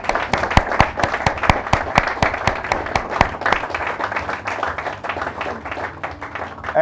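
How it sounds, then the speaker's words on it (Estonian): A group applauding their team, brisk hand claps starting loud and distinct, then thinning into a softer, looser patter, close and with no talking. "tehke ise endale, tehke kogu tiimid, üks suur aplaus"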